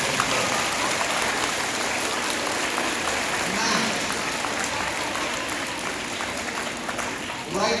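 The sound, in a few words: students clapping, applause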